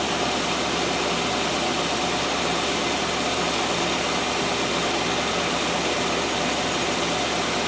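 A 1997 Land Rover Discovery 1 engine runs steadily after starting, a continuous loud idle with broadband rumble and no pauses.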